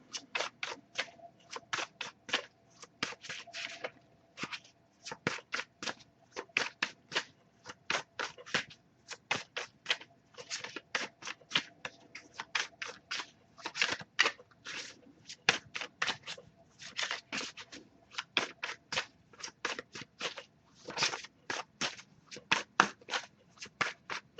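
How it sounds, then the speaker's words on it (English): Tarot cards are shuffled repeatedly up close, a rapid series of crisp riffling bursts with short pauses between, no voices. "I'll give it a few more shuffles before I move on."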